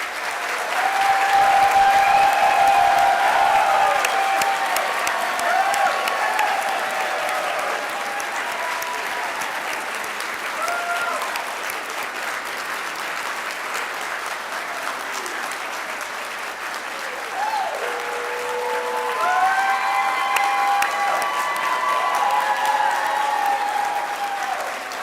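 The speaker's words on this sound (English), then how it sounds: "Please join me in a round of applause for the class of 2022." Sustained applause from a large graduation audience for the South University School of Pharmacy class of 2022, steady and full for the whole stretch, with a few scattered whistles and cheers rising near the end.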